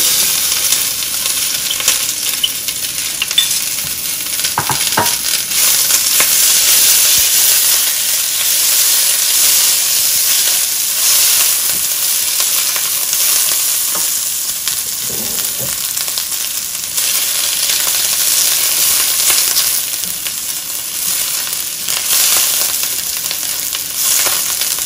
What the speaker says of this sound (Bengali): একটু ঘি দিয়ে পেঁয়াজ কুচিগুলো আমি ভেজে নিব।